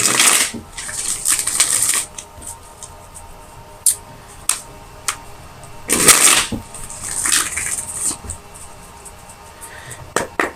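Tarot cards are shuffled close by in bursts of rapid riffling and slapping, separated by quieter gaps with small handling clicks.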